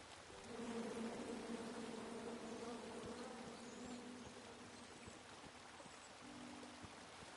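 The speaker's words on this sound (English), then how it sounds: "Come at me, bees!" A swarm of bees in the video game King's Quest (2015) drones steadily for several seconds, a close, continuous buzzing over a soft rushing background with no voices.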